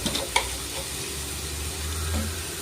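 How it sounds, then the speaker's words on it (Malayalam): Ground spices (coriander, chilli, fennel and garam masala) sizzle in a hot pan under steady frying noise. A few sharp scrapes and taps of the stirring spoon come early, and a soft thud sounds near the end. "എല്ലാം പച്ചമണം മാറുന്നിടം വരെ ഒന്ന് ഇളക്കി കൊടുക്കാം."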